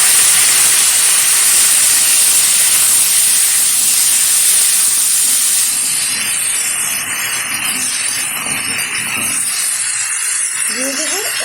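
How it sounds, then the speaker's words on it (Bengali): Chopped vegetables for a three-vegetable curry go into a hot pan, setting off a loud, steady hissing sizzle that fills the clip and eases slightly partway through. "এখন দিয়ে দিচ্ছি টুকরো করে রাখা সবজি"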